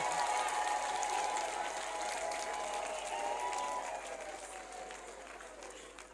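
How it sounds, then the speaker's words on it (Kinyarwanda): A congregation at a prayer gathering claps in sustained applause that fills the space, with raised voices mixed through it, easing slightly toward the end. "Mumere Mana amashyi we"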